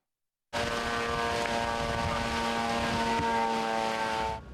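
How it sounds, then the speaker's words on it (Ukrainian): Russian long-range attack drone loitering over a frontline town in Donetsk region, a steady buzzing propeller drone that cuts in abruptly and holds a constant droning whine for several seconds, loud and alone. "Ось так цілодобово російські далекобійні БПЛА баражують та вибухають у прифронтових містах та селах Донеччини."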